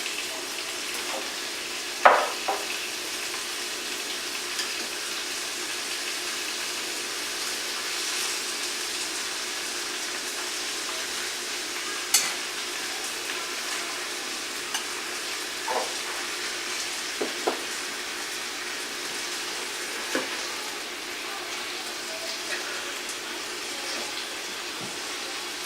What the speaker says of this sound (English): we've got a nice sear on the one side, so we're going to turn them over.